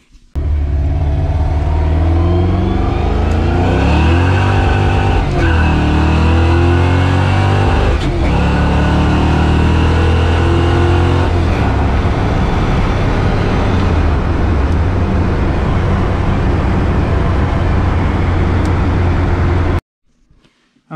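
A cammed 351W V8 in a 1983 Mustang revs hard during a pull, a loud, close roar with rising and falling engine tones that holds for nearly twenty seconds before cutting off abruptly.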